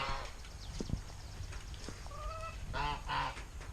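Geese honk nearby in short nasal calls, a couple of bursts toward the end, with soft thumps and rustling around them.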